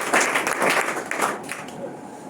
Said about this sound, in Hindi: इन सब बातों के लिए हम पुनः उन्हें एक बार जोरदार तालियों से स्वागत करेंगे